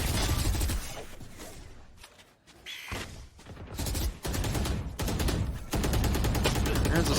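Rapid gunfire from the video game Valorant during a competitive VCT Challengers match, dense bursts of shots and automatic fire nearly continuous and loud, with brief lulls, under excited commentary.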